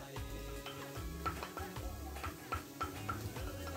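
Shredded, minced carrots tossed into cabbage cooking in a pan for Filipino lumpia filling, giving a steady sizzle with repeated scraping and stirring clatter from utensils against the pan.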